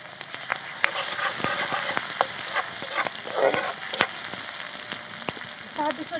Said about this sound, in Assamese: এতিয়া দিম মই তেলতে আদা নহৰু থেতলা